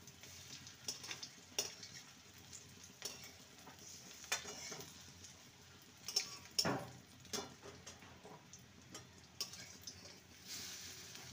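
Egg and onion fritters fry quietly in a pan with oil, a soft steady sizzle broken by occasional clicks and scrapes of a utensil turning them.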